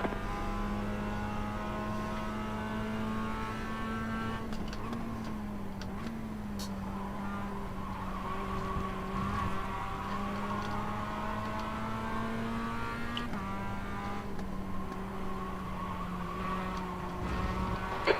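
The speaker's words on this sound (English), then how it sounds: "There's a faster car approaching." A production race car's engine drones loud and steady from inside the cabin during a two-hour endurance race, its pitch shifting with gear changes as a faster BMW closes in behind.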